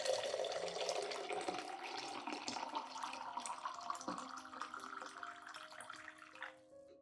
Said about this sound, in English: add about 500 milliliters of hot water.